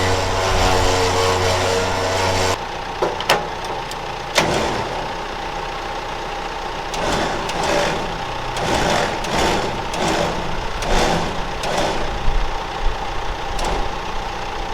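Vehicle engine idling steadily during a Runva 9500lb winch installation on a Mitsubishi Triton, with intermittent clicks and clunks of work over the constant hum and no speech.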